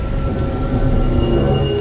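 Heavy rain falls steadily as a dense, loud, continuous wash of broadband noise with a low rumbling undertone, close by and with no voices.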